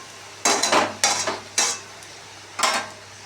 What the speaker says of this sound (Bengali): বিশেষ কলমি শাক ভাজা বসিয়ে দিয়েছি